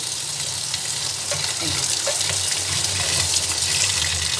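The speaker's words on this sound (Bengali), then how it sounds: "উচ্ছেগুলোকে আমি জল দিয়ে ভালো করে ধুয়ে নেব" Bitter gourds are washed under water, with a continuous close rush and splash of running water and light handling noises throughout, no voices.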